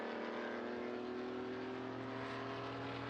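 A Datsun 1200 at the Estoril Classics race sends out a steady, droning engine roar that holds at an even, moderately distant level for the whole moment, with no one speaking.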